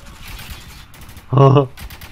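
A short burst of gunfire in the video game Spec Ops: The Line rattles out loudly for a fraction of a second amid quiet background game noise.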